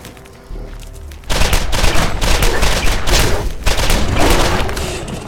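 Sustained automatic gunfire from a gun in Borderlands erupts after a quiet second and roars on continuously, loud and dense, the trigger held down with rapid overlapping shots.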